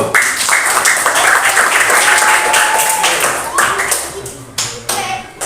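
A classroom group of students claps together, a close, dense burst of hand clapping that carries on steadily for several seconds before trailing off, with voices mixed in.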